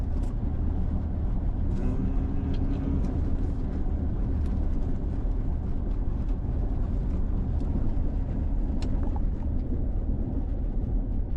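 Cabin view of a VW ID.UNYX electric car on 20-inch wheels rolling over cobblestones, a steady low rumble and road drone throughout with faint scattered rattles.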